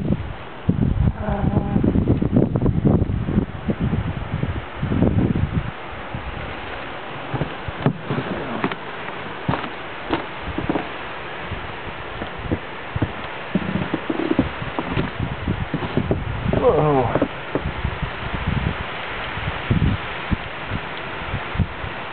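Wind gusts during a snowy winter blizzard on Camano Island, Washington, roar and buffet steadily with a muffled low rumble and rustling, broken by brief louder bursts.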